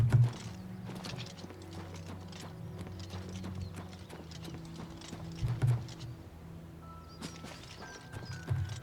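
Steady clip-clop of hooves, a horse walking at an even pace in the video game The Elder Scrolls IV: Oblivion Remastered, with a brief whinny-like sound near the middle and soft background ambience.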